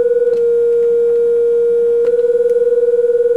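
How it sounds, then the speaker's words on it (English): Two triangle-wave test tones from an oscilloscope demo hold steady and loud for about three seconds, with a soft pulsing at the start and near the end. "If I change those to two triangle waves"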